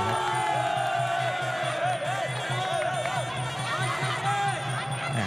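A team crew cheers and shouts ringside at a kickboxing match, scattered whoops rising over a steady rhythmic hum while a commentator talks excitedly over them.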